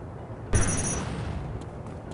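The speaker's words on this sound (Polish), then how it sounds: "To nie był taki duży ładunek wybuchowy." An explosive charge detonates in the video game Devastation. One sudden, loud blast is followed by a rumbling decay that fades over about a second and a half, with no talking.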